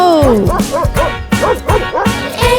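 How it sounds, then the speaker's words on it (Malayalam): A cartoonish dog barks and yips in quick, bouncy bursts within a children's song about a farmer's dog, loud and close with a musical backing. "ഒരു നായ ഉണ്ടായിരുന്നു കർഷകന്"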